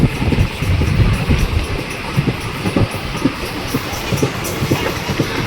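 A passenger train runs on the Lathi to Junagadh line, a steady loud rumble with rattling wheels and rhythmic clatter heard from on board, going on without a pause.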